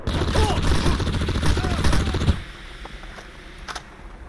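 Dense automatic gunfire from close range in the shooter game Crysis, rendered with 3D spatial sound, rattling continuously for about two seconds before cutting off, followed by a few faint scattered shots.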